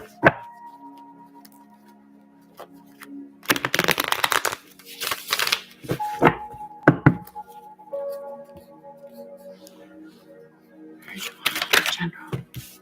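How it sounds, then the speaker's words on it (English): Tarot cards are shuffled by hand in several brisk bursts of riffling and flapping, separated by quieter pauses in a close, indoor setting. "Let me shuffle these up first."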